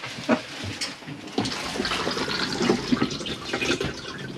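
A cassette toilet in a Chausson First Line 630 motorhome flushes with a steady close rush of running water, punctuated by a few small knocks and clicks.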